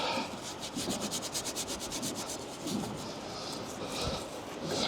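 A Scotch-Brite pad scrubs back and forth in steady, rhythmic strokes, a close, continuous rasping rub with brief pulsing bursts, heard alone at moderate level.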